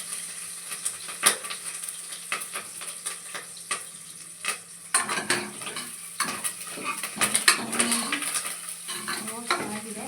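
Spices roasting in a pan for chicken pepper fry, with a soft sizzle under repeated scraping and clinking of a spatula against the pan, close and irregular, growing busier toward the end, no talk.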